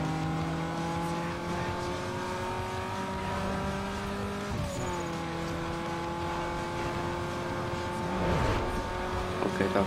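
A car engine in the Need for Speed Underground 2 racing game drones steadily with rising and falling pitch, tires squealing briefly around a corner midway, with game music and effects layered over it.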